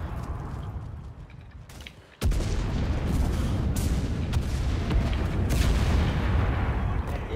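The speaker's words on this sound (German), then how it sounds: "Dann kommt meine Artillerie." Artillery barrage in the World War II shooter game Enlisted: a sudden heavy blast leads into a continuous loud, rumbling roar of shelling with crackling impacts, nearby and sustained.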